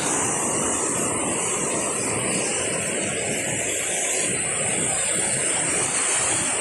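A constant, loud roar of rushing water from Kempty Falls near Mussoorie pours without pause, filling the whole scene with no voices.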